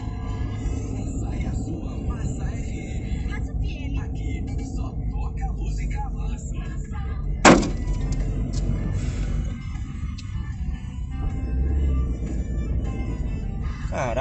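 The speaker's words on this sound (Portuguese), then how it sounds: "Algum filho da puta bateu no meu carro." Another car crashes into a dashcam car in traffic: steady engine and road rumble inside the car, broken by one sharp, loud impact bang midway, with low voices nearby.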